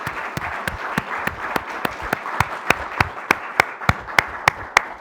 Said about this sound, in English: may I get a round of big applause for Mr. Steve Posnack.